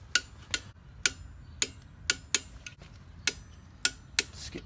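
A torque wrench tightens bolts to 18 foot-pounds during an Ecotec engine swap into a Miata, giving about a dozen sharp, close metallic clicks at uneven intervals over a quiet background.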